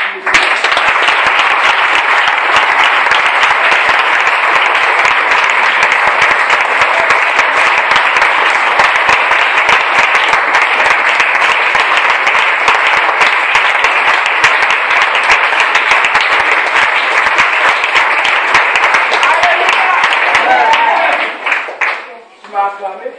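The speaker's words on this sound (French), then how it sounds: "Est-ce qu'on peut acclamer?" Sustained loud applause and clapping from a church congregation in a worship service, dense and steady for about twenty seconds before fading out at the end.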